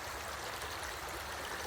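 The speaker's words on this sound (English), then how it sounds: "the river's flowing very strong today" A strongly flowing river rushes steadily and close by, a dense, even wash of water noise with no break, from an outdoor spot where flowers and honey are left as offerings.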